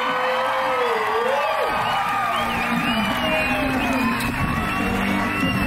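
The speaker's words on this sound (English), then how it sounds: "Definitely giving the crowd something to cheer about." A crowd at a rodeo arena cheers and shouts continuously, with whoops and raised voices swelling over a steady roar of spectators.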